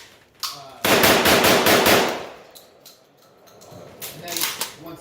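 A Kalashnikov USA Komrad 12 shotgun with a light load kit fires a loud, close burst of rapid shots followed by metallic rattling and handling sounds, with a voice speaking nearby.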